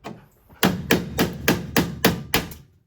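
Seven sharp, evenly spaced hammer blows on a chisel knocking the heads off drilled-out rivets on a 2012 Ford Transit Connect van, close and loud, ringing briefly after each strike.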